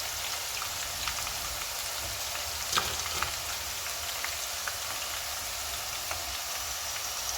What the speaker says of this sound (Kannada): ಇದೇ ಥರ ಲೋ ಫ್ಲೇಮಲ್ಲೇ ಅದನ್ನು ನಾವು ಈಗ ಸ್ವಲ್ಪ ಫ್ರೈ ಮಾಡ್ಕೋಬೇಕು, ಈ ಬೆಂಡಿ ಫ್ರೈಸನ್ನು.